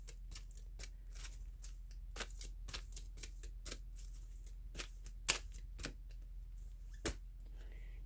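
Riffle-shuffling a deck of playing cards, with a series of sharp crisp bursts at an irregular rhythm, heard close and alone against a quiet background.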